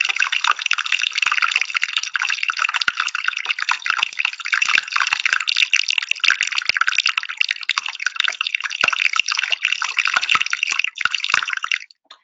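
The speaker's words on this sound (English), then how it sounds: "you can hear that popping sound, which we call Bergy seltzer. It sounds like champagne bubbles bursting or a fizzling kind of a pop drink." Melting iceberg from a calving glacier fizzing and popping as trapped air bubbles escape, a dense, continuous crackle of tiny bursts like champagne, close and steady throughout with no voices.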